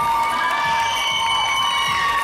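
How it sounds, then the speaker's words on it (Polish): An audience at a results announcement for a solo competition cheers and shouts loudly and continuously, children's voices among the crowd, with faint clapping in the mix. "A teraz poproszę o wielkie brawa dla zwyciężczyni."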